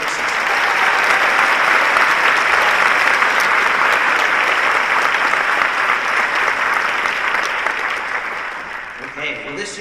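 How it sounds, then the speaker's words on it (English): Sustained, dense audience applause fills a commencement ceremony hall at Indiana Academy, steady and loud for most of the stretch before tapering slightly near the end. "Let's give this group a big round of applause for an incredible season."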